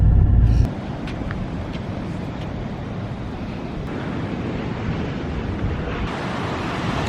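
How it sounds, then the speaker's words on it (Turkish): Sea waves wash against a breakwater along a coast where ships pass, making a steady broadband surf roar mixed with wind rumble on the microphone, with a louder gust at the start. "Buraya dalga kıran yapmışlar. Ama burası daha dalgalı bence şeyden."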